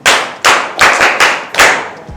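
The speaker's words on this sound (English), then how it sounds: "Clap for him." Classroom of students clapping for a classmate in five quick, loud rhythmic bursts, with short gaps between each round.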